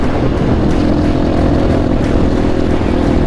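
Motopro 300, a full-size Chinese motorcycle, roars steadily while being ridden, its engine drone loud and continuous with wind rush, no talking over it.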